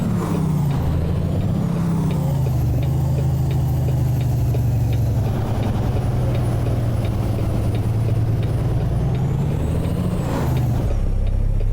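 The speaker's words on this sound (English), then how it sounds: "I don't like the Jake brake in this truck." A truck's Jake brake in the American Truck Simulator game gives a loud, steady low rumbling drone that runs through the whole stretch, with no talking over it.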